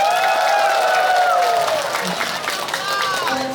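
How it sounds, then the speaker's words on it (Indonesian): Audience applause at a Balinese community entertainment show in Tanah Bumbu, South Kalimantan: a dense, loud, steady wash of clapping with crowd voices and cheers mixed in, lasting the whole stretch. "Tepuk tangannya dong."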